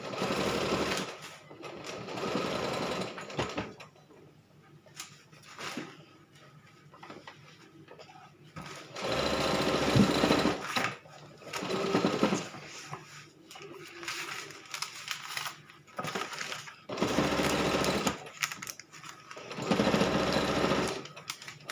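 A sewing machine stitching a child's jacket runs in several loud bursts of rapid, even mechanical chatter, close by, separated by quiet pauses with faint handling noises.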